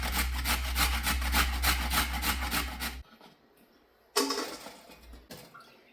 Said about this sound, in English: And I'm just going to grate those so they're ready to go.